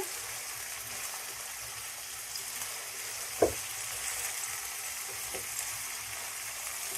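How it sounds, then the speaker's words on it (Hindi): Chicken pieces frying with garlic and ginger paste for biryani give a steady, fairly quiet sizzle with one sharp stir or scrape in the middle and a few softer knocks later. "चिकन को हम तकरीबन 10 मिनट फ्राई करेंगे"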